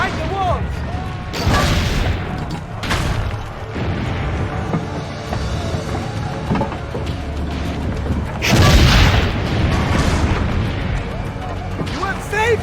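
Cannon fire in the video game Assassin's Creed Brotherhood during a battle at the town walls, several loud booming blasts with rumbling tails amid battle noise.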